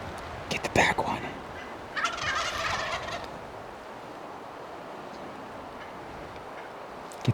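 A wild turkey gobbles during a spring turkey hunt in the Maine woods, two rattling calls in quick succession early on, fairly distinct over quiet outdoor ambience that fades to a low hush.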